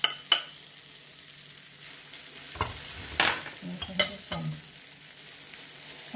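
Quiet sizzle of carrot pancake batter frying in an oiled pan, with a few scattered scrapes and clinks of a utensil against the metal.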